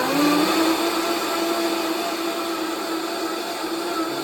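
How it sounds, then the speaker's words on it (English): A blender whirs loudly at full speed, a steady high-pitched motor whine with a harsh, constant roar and no pauses. "Alright, so this is a blender."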